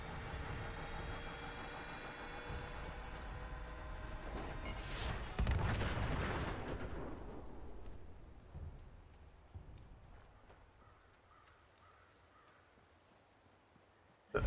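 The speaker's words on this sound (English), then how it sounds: "Oh, that one's going to explode too." A loud explosion in the Fallout 76 video game bursts out over a steady rumbling background, then a long rolling boom fades away over several seconds, leaving a quieter scene.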